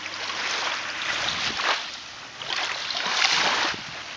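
Sea waves wash along the shore at Anapa on the Black Sea, carrying dry seaweed and debris to the beach, heard as a steady close rush of surf with swelling breaks and no voices.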